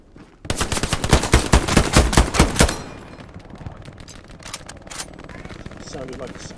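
A machine gun fires a rapid burst of about a dozen loud, close shots in the World War II game Hell Let Loose, followed by quieter scattered distant gunfire, with players talking over it.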